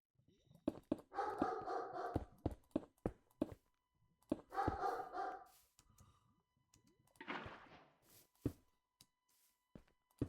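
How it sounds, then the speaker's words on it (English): Several dogs bark in short bursts from a nearby room, clustered yelps and woofs in two or three loud spells with quieter gaps and thumps between, over faint background noise. "If you guys can hear my dogs, just ignore them."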